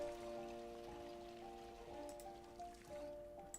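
Steady rain falls in the Project Zomboid video game, a faint continuous patter under a soft sustained hum, with no voices.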